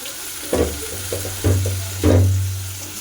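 Papaya pieces fry in hot oil in a kadai with a steady sizzle, broken by three louder bursts of spatter and scraping, each fading back into a low hiss.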